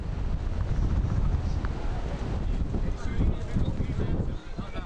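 Strong, gusty wind at a kitesurfing championship on the water, roaring and buffeting steadily across the whole stretch with dense low rumble, loud and close.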